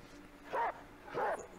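A dog in the video game Reigns gives two short barks about half a second apart, moderately loud, with faint background underneath.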